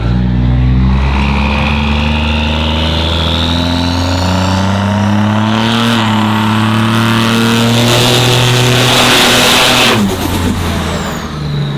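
A loud diesel engine in a roughly 1200 hp street truck revs at about half throttle, its deep roar climbing and holding before dropping back, close and continuous.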